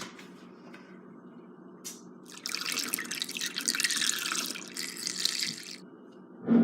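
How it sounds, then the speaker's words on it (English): Strawberry peppermint iced tea pours through a funnel in a steady splashing trickle that swells for a few seconds, then stops, heard close with no talk. "And now we are going to pour this in, and I think I might need a funnel."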